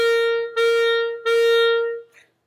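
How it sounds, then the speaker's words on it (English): Three accented notes on a single sustained pitch, each with a strong attack and held tone, played back to back with brief gaps, followed by a faint short tail at the end. "sometimes accents will appear in a row and that'll sound like this"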